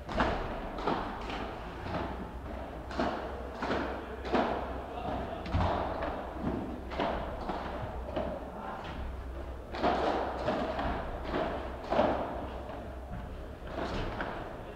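A padel ball pops off rackets and walls in a quick rally during a P2000 tournament match, sharp thuds in an irregular rhythm under a commentator's running talk.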